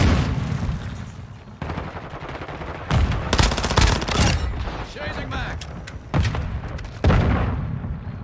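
MP7 submachine gun in Call of Duty Modern Warfare 2 on the Shoot House map, loud rapid bursts of gunfire in several clusters with sharp impacts, mixed with other battle noise.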